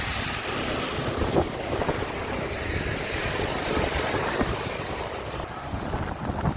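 A steady, broad rush of a waterfall beside a ghat road in Konkan fills the clip, constant and fairly distant, with occasional light clicks over the roar.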